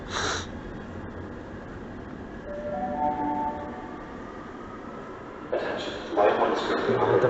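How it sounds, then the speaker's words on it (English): A subway train arrives at a station platform with a steady mechanical rumble, tonal whines that rise and fade midway, then louder bursts of brake or door noise near the end. "Eastbound train to Rito is arriving. Please stand away from the platform edge."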